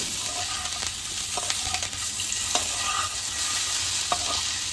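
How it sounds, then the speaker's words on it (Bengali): Semolina and vegetable bites stirred in a pan with chili powder and very little oil, with a steady soft sizzle and a few scraping spatula strokes, close and continuous. "এবার এর মধ্যে দিয়ে দেবো যে টিফিনগুলোকে আমি আগে থেকে গড়ে রেখেছিলাম, টিফিনগুলোকে দিয়ে দেবো, দিয়ে এইভাবে একটু নাড়াচাড়া করে নেব"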